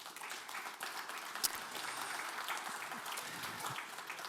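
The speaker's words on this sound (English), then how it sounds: "Please give him a round of applause." A conference audience at a foreign-policy forum applauds a newly introduced minister, a soft, distant wash of steady clapping with no voices over it.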